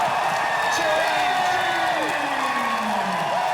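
A boxing crowd at a 68 kg bout roars on its feet, a dense, loud, continuous wall of cheering and shouting with whistles and whoops rising through it.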